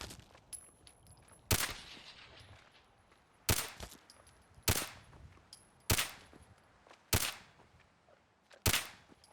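Gunfire in the video game Fallout 4: six sharp, loud single shots spaced about a second apart, each with a short decaying tail, over a low background of game ambience.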